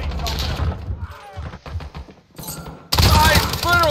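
Gunfire in Call of Duty Modern Warfare during a hardcore team deathmatch on the Vacant map: dense bursts of rapid shots, loud and close, a brief lull mid-clip, then a heavy fusillade at the end, with voices underneath.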